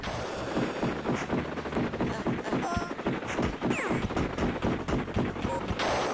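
A helicopter's chain gun fires in the Amiga game Desert Strike, as rapid, rhythmic bursts of retro gunfire that run steadily throughout over game sound effects.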